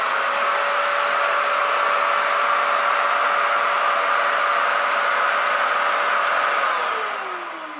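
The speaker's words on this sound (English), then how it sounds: "It is a vacuum that you sweep up to," An iVac stationary vacuum, the kind hair is swept up to, runs with a steady, loud whooshing roar and a constant whine for several seconds, then the motor spins down and the pitch falls near the end.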